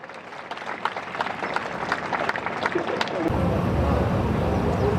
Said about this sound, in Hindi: और जोरदार तालियों से कृपया आप स्वागत करें।